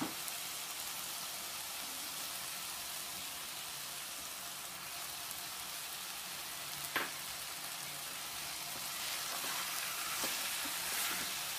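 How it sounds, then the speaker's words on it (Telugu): Brinjal and mango pieces frying in a pan give a soft, continuous sizzle and crackle, faint and close, with a sharper pop or stir noise near the middle and another few toward the end. "ఇవి బాగా ఫ్రై అవుతుండగానే మ్యాంగో పీసెస్ని కూడా యాడ్ చేసుకోవాలి"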